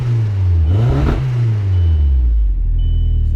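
A cold Audi B5 engine revs up, dips, then climbs again before settling into a lower, rough idle. The loud, close mechanical roar may break up unevenly while not yet warm.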